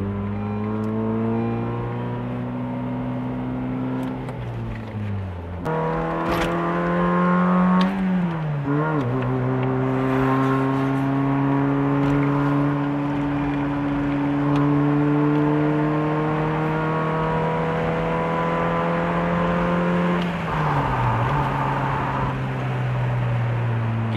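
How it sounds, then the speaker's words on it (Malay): A Honda CR-Z two-door coupe accelerates hard, its engine note climbing steadily through the gears with brief dips at each shift, loud and close from inside the car, with no talking. "kita tekan kereta ni sampai minyak pun dah habis eh"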